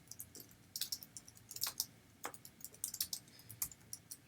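A commit message is typed on a computer keyboard: quick bursts of close, crisp key clicks with short pauses between, no voices.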